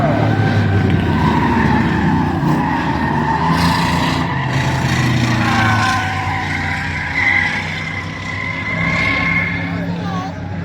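Bomber class race cars running a heat race on a track, a steady loud engine roar with tire noise that swells and fades as cars pass, under continuous announcer commentary.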